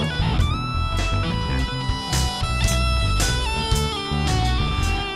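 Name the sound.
CrunchyGrooveWear audio effect from 2Vinyl, overshoot quality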